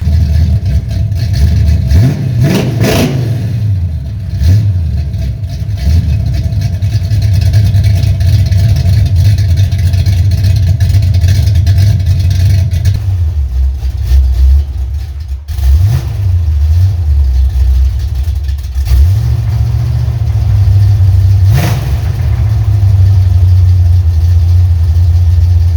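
A 1978 car with true dual exhausts, comparing Flowmaster Super 10 and Cherry Bomb Turbo mufflers, idles with a deep loud burble and revs up several times in surges, close and without speech.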